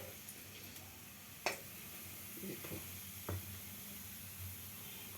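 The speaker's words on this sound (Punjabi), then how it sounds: "ਇਸ ਦੇ ਵਿੱਚ ਅਸੀਂ ਜੀਰਾ ਭੁੰਨਾਂਗੇ ਜੀਰਾ ਹਲਕਾ ਹੀ ਭੁੰਨਣਾ ਹੈ" Cumin seeds roasting lightly in a pan for urad dal khichri, giving a faint, steady sizzle with a few soft stirring clicks and scrapes.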